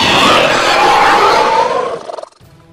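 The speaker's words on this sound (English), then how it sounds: "The roar of the Skullcrawler is very high in tone, possessing a raspy quality with a hiss and a growl mixed in between" A Skullcrawler monster from the Monsterverse films lets out a single loud, high-pitched, raspy roar mixed with hiss and growl, sustained about two seconds before cutting off sharply.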